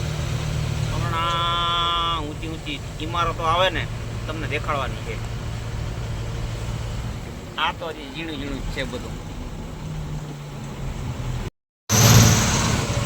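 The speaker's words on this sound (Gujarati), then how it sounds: "હમણાં ગાડી બહાર નીકળી આપણી" A car driving through Mumbai traffic, its engine and road noise a steady low rumble throughout while people talk inside the vehicle.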